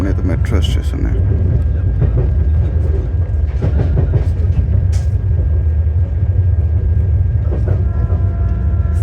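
The Swarn Jayanti Rajdhani Express train rumbles steadily through Patel Nagar railway station with a continuous low roar, a voice speaking over it.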